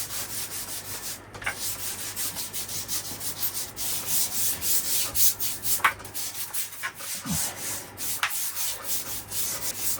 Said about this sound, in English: Just going to give it a good scrub.